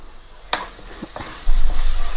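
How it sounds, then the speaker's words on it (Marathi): Masala for a cauliflower curry frying in a pan, with a sharp close scrape and a few stirring knocks, then a louder steady sizzle that builds and holds to the end. "असं मस्त फ्राय झालेला आहे आता मसाला"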